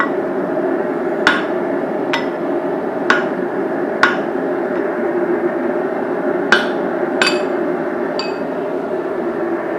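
Hammer blows ring on an anvil while a hammer head is forged, sharp metallic strikes spaced about a second apart with a few quicker pairs, loud and close over a constant roaring hum.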